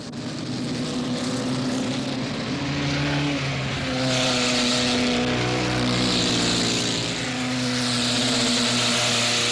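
Formula race cars with narrow tires race at Road Atlanta, their engines a loud, continuous droning whine that shifts in pitch as the cars accelerate and pass, growing louder midway through.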